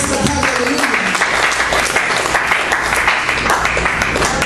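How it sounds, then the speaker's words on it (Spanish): A church congregation applauds Christ at an afternoon service, a dense continuous wash of many hands clapping, loud and steady throughout with no distinct voices. "¿Cuántos pueden darle un aplauso a Cristo en esta tarde?"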